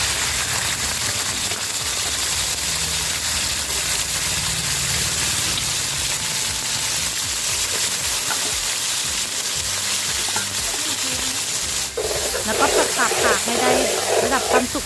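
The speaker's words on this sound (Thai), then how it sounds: "หลังจากกระทะเริ่มร้อนแล้วนะคะ เราจะใส่ตับลงไปค่ะ" Steady, loud sizzling of pork liver frying in a hot wok over medium heat fills the clip, a dense crackling hiss with a brief stirring clatter near the end.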